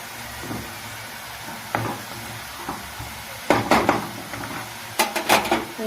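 Spoon stirring onion stalk thoran in a cooking pan, a few soft scrapes and then sharper metallic clinks and knocks in two short bursts, with a quiet background hiss.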